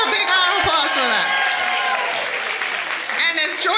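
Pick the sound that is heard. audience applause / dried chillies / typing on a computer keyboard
audience applause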